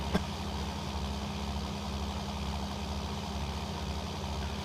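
A tractor engine in the Farming Simulator 19 video game idles steadily with a low, even drone that holds constant throughout, with no talking over it.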